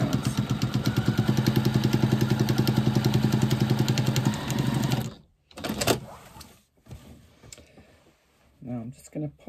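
A sewing machine stitches down the sides of a lining at a quarter-inch seam, a fast rhythmic mechanical whirr of repeated needle strokes for several seconds, then stopping, followed by handling noises and someone talking.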